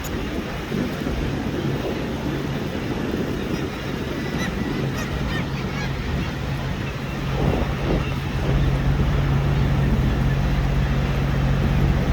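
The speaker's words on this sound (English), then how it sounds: "All the birds." Birds call, goose-like, near a glacier, partly buried under the constant roar of wind and a jetski engine that swells a little louder toward the end.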